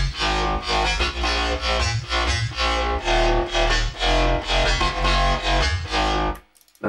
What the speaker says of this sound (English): And, so the basses together sound like this.